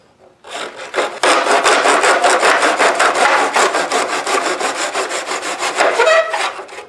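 Hand saw cutting through the last groove of a homemade drink holder for a lawn chair, a loud, steady back-and-forth rasp of rapid strokes close up with no talking.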